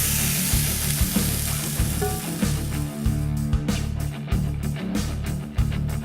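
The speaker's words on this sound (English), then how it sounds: "use that hot pan to cook your protein" Seafood fries in a hot pan for paleo-style stuffed yams, giving a close, continuous sizzle with a low rhythmic rumble underneath and occasional sharper pops and bumps.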